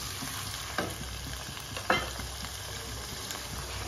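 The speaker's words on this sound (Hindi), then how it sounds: "हाई फ्लेम पे मैं पका रही हूँ इसको।" Chicken frying over a high flame, a steady close sizzle with a couple of sharp stirring knocks and scrapes in the pan, and no voices.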